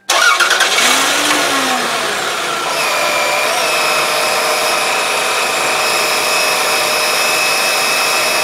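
A 1997 Toyota Camry engine cranks briefly and catches, then settles into a loud, steady idle with a whining, droning hum that continues alone to the end.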